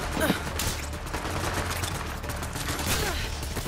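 Video game gunfire crackles in rapid, overlapping volleys, loud and continuous with sharp bursts, alongside a low rumble.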